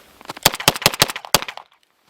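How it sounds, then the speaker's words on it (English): Rapid series of sharp gunshots from a 9mm 1911 pistol firing warm Winchester 115 grain ammunition outdoors, about seven loud cracks in quick succession, then quiet. "first up, 9mm 1911 with 115 grain from Winchester. This is the warm ammunition."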